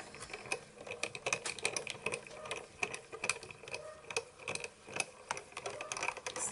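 Artisan Explorer die-cutting and embossing machine running with metal dies, a steady close mechanical whir laced with rapid ratcheting clicks, continuous and moderately quiet with no talk.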